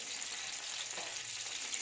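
Oil and margarine heating in a pan before scallops go in, a soft, even hiss of faint sizzling with no talk.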